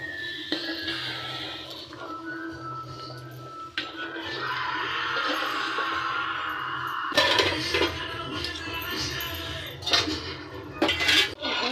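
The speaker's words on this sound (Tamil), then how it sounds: "திறந்துட்டு இதை நல்லா கலரி விட்டுக்கலாம்." A spoon scrapes and clanks against a pot as biryani is stirred after the lid comes off, with irregular metallic knocks and scraping over background noise.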